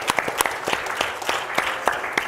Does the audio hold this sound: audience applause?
yes